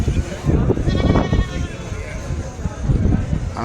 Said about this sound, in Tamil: இது வந்து புளியம்பூர் ஆடு.